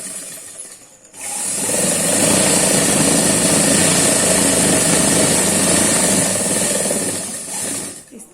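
An electric sewing machine stitches the back panel of a kurti jacket. It starts after a brief quiet moment and runs as a loud, continuous high-speed whir for about six seconds, then slows and stops near the end.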